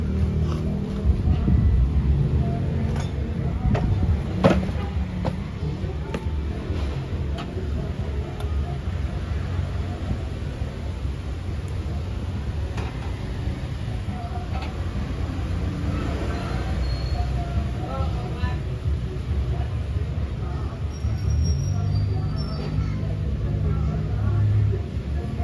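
Isuzu Trooper with a 4JG2 diesel engine idling steadily with its exhaust reattached, a continuous low rumble throughout, with a few voices and background noise.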